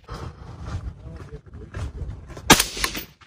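A single sharp crack of a sniper rifle shot at a National Guard sniper championship range, loud and abrupt near the end, following low rumbling background noise and indistinct voices.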